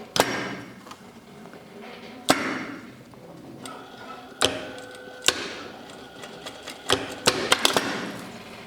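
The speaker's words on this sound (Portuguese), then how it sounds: "Agora aqui, do lado de fora, eu passo uma costura assim, para fechar essa prega." Sewing machine stitching a seam to close a pleat on a shirt, heard as scattered sharp clicks and thumps in irregular short bursts, fairly faint and without talk.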